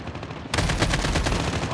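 Rapid automatic fire from an AK-47 in the video game Call of Duty breaks in abruptly after a brief lull, a loud, dense burst of close shots.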